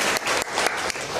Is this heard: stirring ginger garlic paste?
no